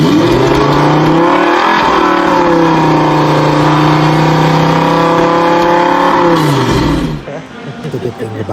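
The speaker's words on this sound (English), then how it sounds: "I'm about to get on the fastest roller coaster in the world, located in the United Arab Emirates in Abu Dhabi." Formula Rosa roller coaster at Ferrari World, Abu Dhabi, launching: a loud, steady roar with rising and falling engine-like pitch sweeps for several seconds, cutting off abruptly near the end into rushing wind and noise.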